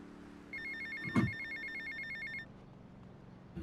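A phone rings in the video game Grand Theft Auto: Vice City, a short electronic ringtone trill lasting about two seconds with a brief thump in the middle, fairly quiet.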